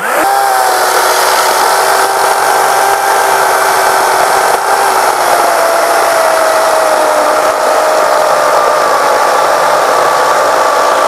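A loud, continuous motor whine of a 36V cordless chainsaw cutting through a log, steady and close, pitch dipping slightly as it bears down.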